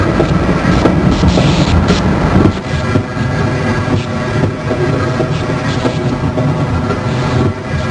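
A train rolls along a track in the video game Half-Life: Blue Shift, giving a loud continuous rumble with rhythmic clacking; after a few seconds the rumble drops to a lower, steadier level.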